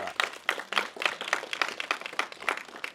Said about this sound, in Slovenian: dajmo naprej en aplavz, prosim, za Lojzeta